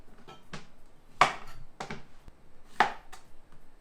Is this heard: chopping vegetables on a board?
yes